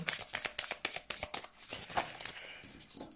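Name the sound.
tarot cards moving and being shuffled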